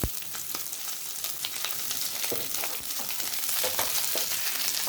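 Curry leaves, green chillies and capsicum pieces frying in hot oil in a pan for chicken 65 biriyani, a steady close crackle and sizzle with sharp pops and brief stirring scrapes, no voices.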